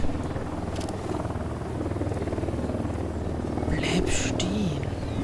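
A helicopter flies somewhere nearby in the video game Ghost Recon Wildlands, a steady whirring rotor drone that swells slightly toward the end, with people talking over it.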